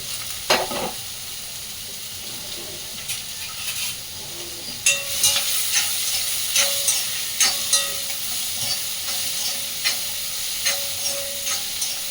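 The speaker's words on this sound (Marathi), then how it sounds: "लसूण, कांदा आणि मिरची सगळं एकत्रच टाकते." Garlic, onion and green chili dropped together into hot tempering oil, a steady close hiss and sizzle with bursts of crackle and scraping stirs recurring every second or so, no talking.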